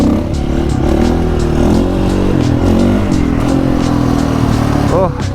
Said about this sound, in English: Just gonna warm up a little bit. Haven't been on the dirt bike in a minute.